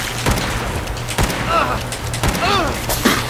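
Shots ring out in Fallout 4 as several loud, punchy reports spread unevenly across a few seconds, close and booming, while someone talks over the gunfire throughout.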